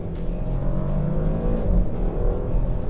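A 2024 Porsche Panamera engine accelerates with a low, sustained sporty drone heard from inside the cabin, steady and fairly loud, rising gently in pitch.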